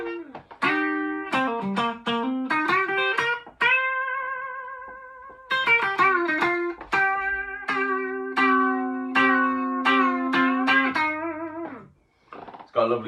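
A Squier Bullet Strat electric guitar with a rosewood fingerboard plays on its bridge pickup with a completely clean tone and no reverb, crisp picked notes and chords ringing alone in short phrases with brief sustained pauses.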